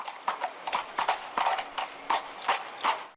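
Horse hooves clip-clop in a steady, even rhythm, moderately close and alone, as horses are harnessed for a long journey to Russia.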